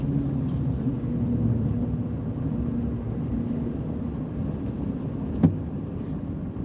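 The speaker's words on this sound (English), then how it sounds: "Another state plow truck coming." State snow plow truck approaching on a snowy road near Lake Erie, heard as a low steady engine rumble and road noise from inside a moving vehicle, with a brief knock near the end.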